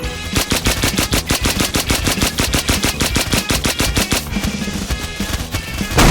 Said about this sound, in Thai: ตัดปืนกลที่มันไม่แรงเลยว่ะ